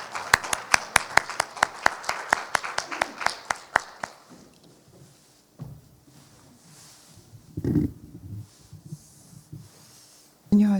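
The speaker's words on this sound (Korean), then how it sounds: "큰 박수로 맞아주시면 감사하겠습니다" Applause welcoming the opening speaker at a 2024 winter academic conference ceremony in Busan: about four seconds of crisp, evenly paced claps, then quiet room noise with scattered shuffles and bumps.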